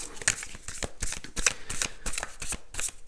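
A deck of tarot cards shuffled by hand, a close, quick riffling patter in short repeated bursts lasting a few seconds.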